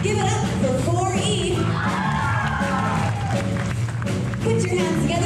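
A packed elementary school audience applauds and cheers the 4E class dancers, with continuous clapping, high children's shouts and whoops forming a loud, sustained roar throughout.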